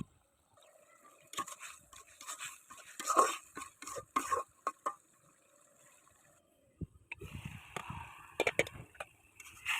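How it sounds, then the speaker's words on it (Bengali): A spatula stirs and scrapes curry vegetables in a pan, giving irregular clatters and a soft sizzle, quiet and close, with pauses between bursts of stirring. "তরকারিগুলো ঢেলে দিয়ে ভালোভাবে নেড়ে চেড়ে আবার কষিয়ে নিতে হবে"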